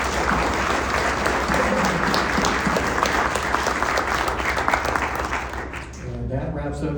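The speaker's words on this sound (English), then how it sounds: "Can we have a round of applause for our candidates?" Sustained, dense crowd applause for the candidates at a 2025 mayoral candidate forum, loud and continuous throughout, tapering near the end as a voice begins to speak over it.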